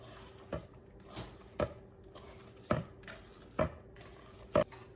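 Garlic, oregano and salt seasoning gets mixed in a bowl, six soft, evenly spaced taps and scrapes of a utensil sounding close and quiet with no talk.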